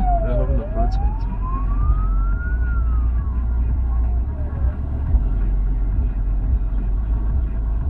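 Sirens of a fire engine and police car at a roadside accident scene wail through a steady low rumble of traffic, one tone sweeping down and rising again at moderate distance while muffled voices murmur underneath.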